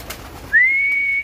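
An imported racing pigeon at a pigeon sale lets out a single sustained, steady whistling call close by, after a quiet moment with faint background noise.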